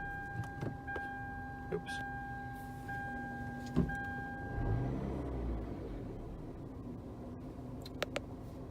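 A 2010 Kia Soul starts: soft dashboard tones and clicks, then a brief crank and the engine catching into a low, quiet idle, with a short spoken exclamation nearby.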